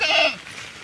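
A goat in the rain lets out one short, nasal bleat, fairly close and alone, fading into quiet dampness.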